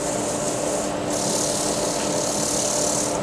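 A wooden table lamp on a lathe is sanded with 400 grit abrasive, a continuous close, loud, hissing rub with a brief dip in the middle and no voices.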